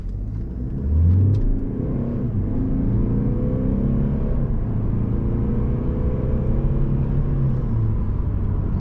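A 2020 Mercedes C-Class facelift with adaptive suspension, heard from inside while driving, gives a smooth, steady engine rumble and road hum as it accelerates gently, rising in pitch as it pulls through gears, with no talking.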